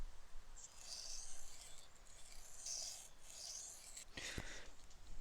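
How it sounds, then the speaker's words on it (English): A 440C steel knife is drawn across a low-grit sharpening stone to remove the burr, making soft, rhythmic scraping rasps in several separate strokes, faint and close, followed by a short sharp knock. "So now the name of the game is 1, remove the burr."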